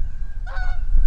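A single short goose honk rings out over a low rumbling background beside a man-made lake in Cameron Park, California.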